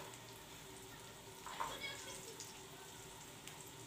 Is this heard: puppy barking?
no